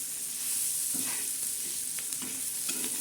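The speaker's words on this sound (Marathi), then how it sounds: "आता हे मस्तपैकी असं हलवून घेणार आहोत" Spiced Bombay duck fish frying on a flat pan gives a continuous close sizzle, with a few scraping stirs as the pieces are turned.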